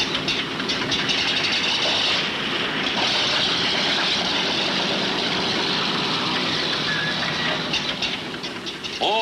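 Six piston engines of a Consolidated B-36 bomber run up together in a loud, steady, dense roar that holds for the whole stretch, with no talking.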